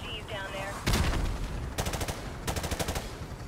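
Unsuppressed automatic gunfire in Call of Duty Modern Warfare: one loud single shot followed by two rapid bursts of full-auto fire, sharp and close, with faint game sounds behind.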